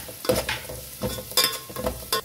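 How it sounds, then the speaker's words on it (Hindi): Onions and green chillies frying in oil, bursts of sizzling and spatula scrapes in an uneven rhythm, close and moderately loud with no voices. "तो यहाँ पे प्याज और चिल्ली को ना हमें अच्छे से फ्राई करके लेना है"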